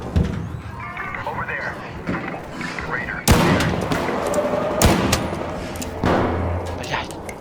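Gunfire in a multiplayer shooter video game, several sharp loud shots and thuds breaking through steady game noise, with a player talking over it.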